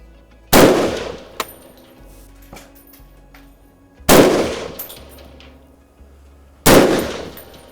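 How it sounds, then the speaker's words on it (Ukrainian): Three loud, sharp semi-automatic rifle shots at 100 metres, spaced a few seconds apart, each with a ringing echo, and faint clinks between them. "Для початку невеличка пристрілочка на 100 метрів."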